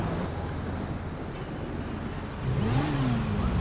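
A car engine in GTA V gameplay idles steadily, then revs up with a rising, falling whine in the final second, fairly loud over a constant low engine hum, with no talking.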